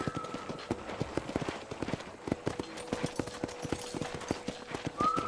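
Horse hooves clip-clopping in a steady, quick rhythm in the Red Dead Redemption video game on a ranch, close and distinct, with a brief faint whinny near the start and end.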